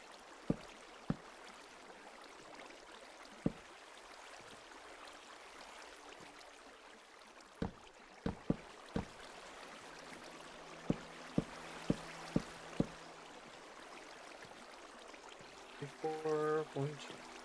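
Naturally running water streams and trickles steadily in a modded Minecraft-style hardcore game, a soft continuous flow with sharp clicks and taps scattered over it and a brief burst near the end.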